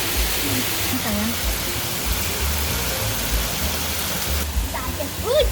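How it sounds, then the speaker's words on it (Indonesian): Hail pelts a bed of growing lettuce plants as a dense, steady hiss of many small impacts, loud and continuous throughout, with some faint talk beneath. "Saatnya hujan es."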